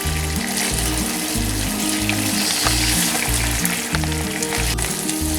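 Tofu being stir-fried in a pan so it is coated in sauce with a little sesame oil, giving a steady, close sizzle and frying hiss throughout, with a low repeating hum underneath and no talking.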